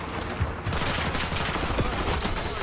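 Rapid automatic gunfire in Call of Duty multiplayer: a dense, continuous stream of close shots and bursts throughout, with no talking over it.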